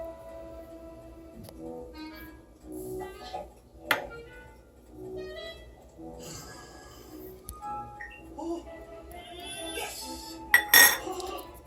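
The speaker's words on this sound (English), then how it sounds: "Mix everything together" Metal spoon clinks and scrapes against a bowl while prawns are mixed with turmeric, red chilli powder and salt, giving scattered light taps and a bright cluster of chimes near the end, close and unhurried.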